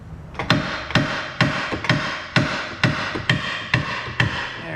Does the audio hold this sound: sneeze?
no